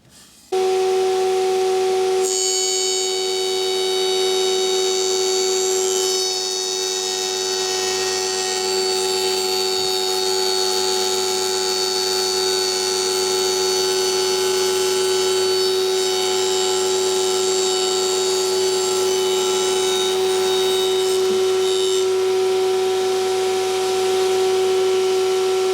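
A router table rigged as an edge jointer planes the edge of a length of timber, giving a steady loud high-pitched whine with a constant droning tone that runs without a break from start to finish.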